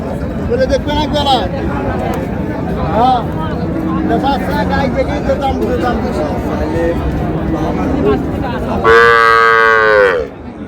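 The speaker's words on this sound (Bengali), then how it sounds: "গাভী বাচ্চা।" A dairy cow with her calf moos loudly near the end at a busy village cattle market in Raniganj, rising over steady crowd chatter and bargaining voices that run throughout.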